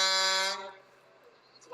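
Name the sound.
car horn honking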